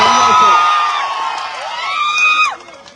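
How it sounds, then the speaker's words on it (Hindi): A crowd at a political public meeting cheers and whoops loudly, voices rising in strong shouts that swell early, dip, then surge again before cutting off. "जोरदार तालियों से।"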